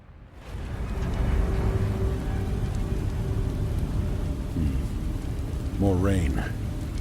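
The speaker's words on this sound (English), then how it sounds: "More rain." Heavy rain pours steadily in the video game Beast of Reincarnation, with a low rumble of thunder underneath, while a voice speaks briefly over the downpour near the end.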